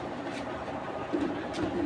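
A pigeon, one of a male and female pair of racing pigeons, coos softly nearby, giving a couple of low, throaty murmurs in a short stretch.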